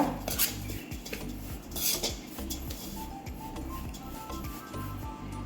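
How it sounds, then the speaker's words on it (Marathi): Spice powders for stuffed sun-dried chillies being stirred in a bowl with a metal spoon, repeated scraping and clinking of spoon against the bowl, close and steady with a few louder knocks. "आता ह्या सगळ्या पावडरी आपण मिक्स करून घेऊया"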